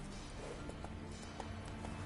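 Roach the horse's hooves clopping in The Witcher 3: Wild Hunt, a faint steady run of hoof beats under a dense game ambience.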